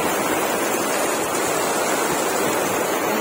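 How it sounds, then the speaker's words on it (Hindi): Heavy rain pours down in a village, a constant loud hiss of falling water that stays steady and unbroken throughout. "बारिश हो रही है बहुत तेज, सब नहा रही है काली, चारों तरफ पानी ही पानी हो गया है"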